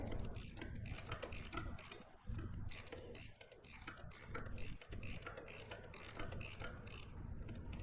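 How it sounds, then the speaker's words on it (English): A swivel head ratchet clicks in rapid bursts while removing a spark plug on a Yamaha XSR900 motorcycle, quiet and close, with brief pauses between runs of pawl ticks. "It also helps to have a swivel head ratchet."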